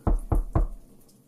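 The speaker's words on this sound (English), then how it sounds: "He knocked at the door." Three firm knocks on a wooden door, evenly spaced and close, each a sharp thud that dies away quickly, followed by silence.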